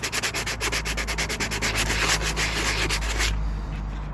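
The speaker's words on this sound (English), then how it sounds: "All we're going to use is P80, quite a coarse thing. I'm going to start sanding it down" Coarse P80 sandpaper rubbed by hand over body filler on a Kylo Ren helmet: close, loud, rhythmic back-and-forth rasping strokes that run steadily, then stop near the end.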